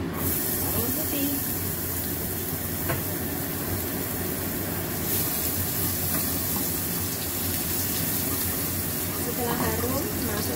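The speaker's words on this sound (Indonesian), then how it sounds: "Kita tumis bawang putih." Garlic sizzling in hot oil in a pan for a Hong Kong-style steamed napa cabbage with meat filling, a steady broadband hiss and spatter running throughout, with faint background sounds under it.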